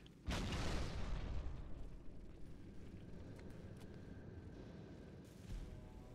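A grenade explodes in Halo 2 Anniversary co-op play: a sudden, fairly faint boom that trails into a long, low rumble.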